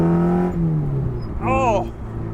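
A Ferrari with a freshly repaired transmission downshifts into second: the engine note slides lower, then a quick rev blips up and falls away, close and fairly loud.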